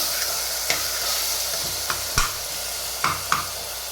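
Ginger garlic paste and tomato frying in a pan, with a steady close sizzle broken by several sharp scrapes and knocks of a spoon stirring against the pan.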